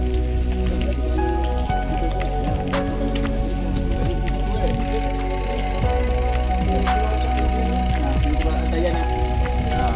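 Rain falling during a mountain bike ride through a plantation trail in Malaysia, a dense, steady patter with scattered knocks and crackles, loud and close throughout.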